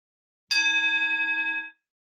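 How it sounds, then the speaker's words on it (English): A meditation bell marks the end of a mindfulness session with a single clear strike that rings out bright and close, its shimmering tone fading over about a second into silence. "I'm going to ring the bell 3 times to mark the end of our session."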